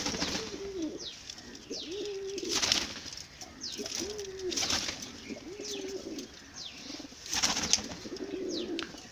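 Pigeons coo in soft repeated phrases at a loft where healthy birds move about, with occasional chirps and brief wing flutters, moderately close and fairly quiet.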